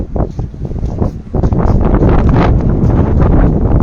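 Strong wind buffets the microphone in steady gusty rumbles in Tamsui, Taiwan, with a roaring, blustery wash throughout.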